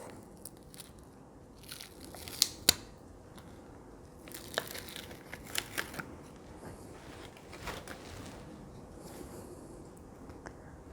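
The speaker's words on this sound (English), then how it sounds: "So I'll just have to peel this backing off." Backing sheet peeled off a small embroidery patch, heard as soft, quiet crinkly tearing and crackling spread over several seconds, with a few sharper clicks and snaps, close and alone.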